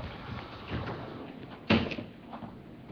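A bottom drawer or cupboard in a home is opened and pushed shut, giving a soft slide followed by one sharp wooden knock and a brief rattle, fairly close, against quiet room noise.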